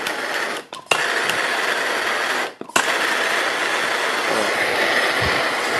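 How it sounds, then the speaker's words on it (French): A gas blowtorch flame roars steadily for tin soldering in a DIY setting, a loud, continuous broadband hiss with two brief dropouts where the flame is interrupted. "on va allumer le chalumeau"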